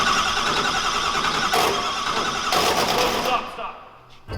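A dry sump pump on a diesel-swapped GT-R engine grinds harshly as the motor cranks, loud and close with rough broadband noise, then cuts off near the end.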